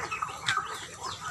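Two large roosters on a small farm give soft, scattered clucks, faint and close against steady outdoor background noise.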